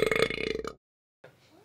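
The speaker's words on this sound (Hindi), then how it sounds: "खाली पेट डकार आ जावेंगे" A person gives a long, rumbling burp with a rapid pulsing texture, loud and close, ending abruptly before a short stretch of silence and a faint noise.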